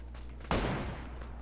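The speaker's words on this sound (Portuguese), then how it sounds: "Vou dar um tiro" A single sudden gunshot rings out in the online shooter PUBG, a loud sharp crack with a short decaying tail over quiet game ambience.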